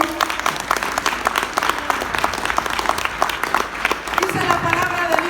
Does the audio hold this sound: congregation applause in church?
yes